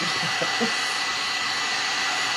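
A hair dryer blows steadily and loudly, drying milk paint on a piece of thrift store furniture, a continuous close rushing hiss with no breaks.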